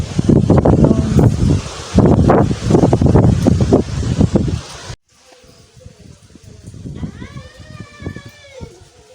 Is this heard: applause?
no